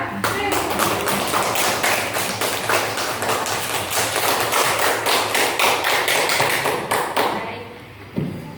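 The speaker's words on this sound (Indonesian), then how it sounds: "Beri aplaus untuk kita semua" Sustained applause from a classroom of students clapping together for several seconds, dense and steady, then stopping abruptly near the end.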